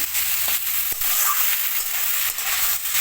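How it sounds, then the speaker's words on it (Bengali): Fenugreek leaves (methi shak) fry in a pan with a steady close sizzle and hiss, broken by a few soft stirring knocks. "এভাবে একটু হালকা করে ভেজে নেবো।"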